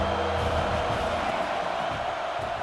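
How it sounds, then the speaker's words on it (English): In the College Football 26 video game, an Ohio State Buckeyes stadium crowd gives a steady, dense roar on third down, continuous and unbroken throughout. "The Buckeye crowd alive on third down."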